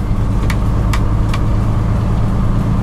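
A 1977 Hino HE 336 truck runs in fifth gear with a steady, low, droning engine rumble close by, broken by a few faint ticks.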